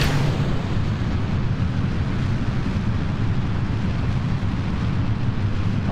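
Rocket engines roaring at full throttle during liftoff in the game Kerbal Space Program, a loud, steady, deep rumbling blast that holds without pause for several seconds, with no speech.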